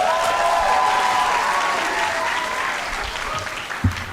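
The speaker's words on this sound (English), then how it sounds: "Let's give it one more round of applause to everybody who made this possible and paved the way for us." An audience at a school Black History celebration gives a sustained round of applause, thick and continuous at first, then thinning slightly toward the end with a few louder individual claps standing out.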